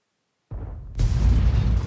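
SU-8 self-propelled gun in a tank video game fires a single heavy shot: a muffled low thump, then a loud, sustained booming blast that rolls on and fills the sound alone.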